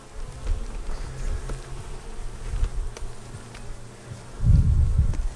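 Honeybees swarm over the top of an open beehive with its super lifted off, a dense, continuous buzzing close by that swells louder near the end.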